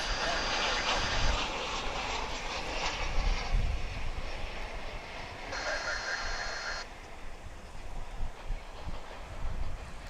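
Airplane engine roaring at DFW International Airport, a steady broad rumble at moderate distance under background voices.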